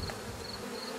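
Honey bees from a small secondary swarm buzzing and fanning, a dense continuous hum filling the whole moment at close range.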